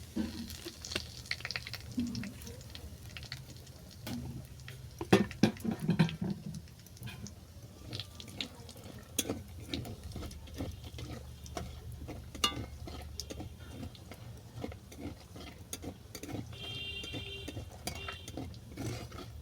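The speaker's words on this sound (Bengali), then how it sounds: "জিরে লঙ্কাটা ভালো করে ভাজা হয়ে গেছে" Soft, low sizzling of cumin seeds and dried chili frying in hilsa fish oil, with scattered ticks and pops and occasional clinks of a utensil, no voices.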